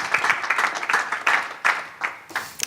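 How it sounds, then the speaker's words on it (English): An audience breaks into applause after a talk, a dense burst of clapping from many hands that runs continuously, close and fairly loud, with no voices on top. "So please give a round of applause to Chelsea"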